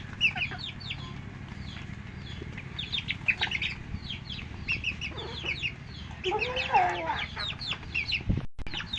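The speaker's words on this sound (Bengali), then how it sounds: "তোমার মুরগিগুলা ডাক দাও" Backyard chickens cluck continuously at close range in a busy, overlapping chatter with a few louder calls, and a brief thump comes near the end.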